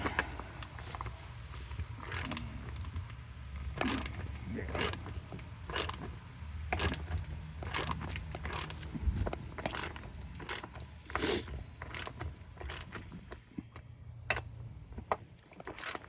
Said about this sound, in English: Oh, this one's not screwing on there very well.